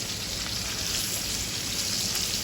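Steak sears in a hot pan with butter, a dense, steady, close sizzle and crackle that fills the whole moment without pause.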